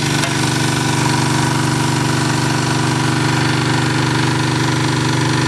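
Engine fuelled by wood gas from a gasifier, burning damp wood, runs at a steady, loud, even drone with a constant low throb from start to finish and no talk.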